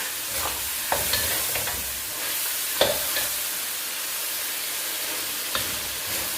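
Pork ribs with holy basil are stir-fried in a hot pan as the liquid cooks down, giving a constant sizzling hiss broken by scattered sharp scrapes and clacks of stirring, close up with no voices.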